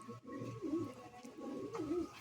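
Patta pigeons kept at a grandfather's home coo softly in a low, throaty rolling pattern, two faint repeated phrases under a quiet steady hum.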